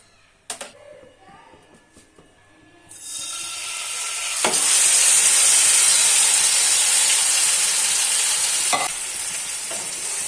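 Marinated meat for biryani hits a hot wok and bursts into a loud, sustained sizzle after a few quiet clinks, with a couple of utensil knocks through the steady frying hiss.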